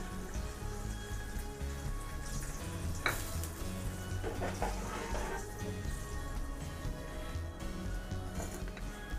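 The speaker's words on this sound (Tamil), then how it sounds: "இப்போ நம்ம கரைச்சி வச்ச புளியை வந்து வெங்காயம் வதங்கின பிறகு அதில் ஊற்றிக்கோங்க" Steady sizzling of onions frying in a pan, with louder hissing bursts as tamarind water is poured in and splatters against the hot oil.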